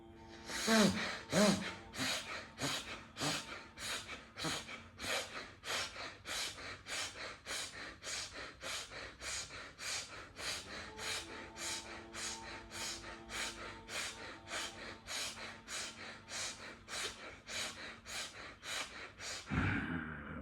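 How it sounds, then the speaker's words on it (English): Rhythmic alternate nostril breathing during a yoga exercise, a long steady series of about thirty forceful nasal breaths, close and clear, with no talking. "And the nostril breathing is the way to balance."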